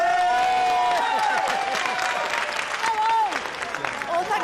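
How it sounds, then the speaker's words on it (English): Applause and cheering from a crowd on a film set, a sustained roar of clapping with whoops and shouts rising over it, voices talking through the noise. "Everyone could join me in a round of applause and a big thank you to Hallows"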